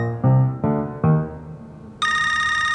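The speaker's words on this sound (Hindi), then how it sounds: "आ गया तुम्हारी नगीना बेगम का फोन" A mobile phone rings in a domestic scene: a few descending melodic tones followed by a brighter, sustained electronic ringtone chime, close and clear with no talk over it.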